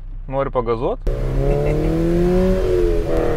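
A car engine revs up in a steady rising drone that holds loud and close, with a brief voice-like burst just before it starts.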